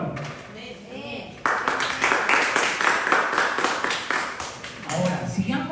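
Church congregation breaks into sustained rhythmic clapping for the Lord during a Sunday morning service, loud and steady after a brief quieter start, with voices mixed in.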